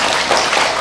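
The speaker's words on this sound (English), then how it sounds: "Let's give them a hand of applause, please." A town hall meeting audience applauds in a brief, dense wash of overlapping claps, steady and fairly loud throughout.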